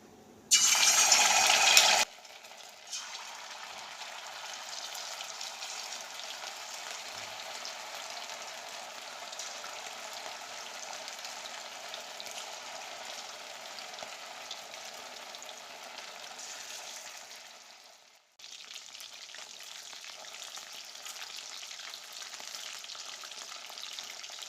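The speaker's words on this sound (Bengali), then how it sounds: "আমি তেলটা একটু বেশি নিয়েছি, প্রায় 5 থেকে 6 চামচ মতন, কারণ আমি এই ম্যারিনেট করা চিকেনটাকে এর মধ্যে ফ্রাই করব।" Marinated chicken pieces frying in about five or six spoons of hot oil for chilli chicken: a loud burst of crackle as they go in, then a steady, even sizzle that runs on with one brief dip.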